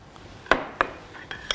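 A spoon clinks against a bowl while stirring a pear face mask mixture, giving a few sharp separate taps spaced apart in a quiet room.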